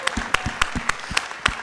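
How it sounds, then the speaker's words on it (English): An audience applauds a filmmaker after a film screening at the 2022 Sedona International Film Festival. Sharp, evenly spaced claps ring out above a dense layer of crowd clapping, fairly close and lively, with no talking. "Nice round of applause for Dalton."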